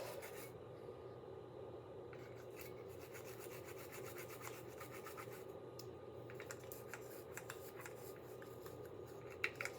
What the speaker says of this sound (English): You just rub the brush back and forth on the springs and it gets the corrosion right off.